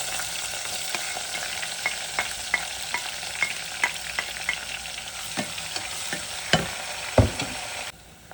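Onion, bay leaf and red chili fry in oil for dal, an even sizzle punctuated by a regular series of light spatula taps and scrapes on the pan, then a couple of louder knocks before it cuts off.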